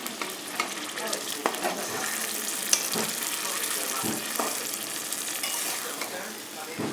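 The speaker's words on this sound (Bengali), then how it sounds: "মাংসটা ছেড়ে দিলাম এখন।" Meat frying in a pan, a steady close sizzle and crackle with occasional stirring scrapes and clanks throughout.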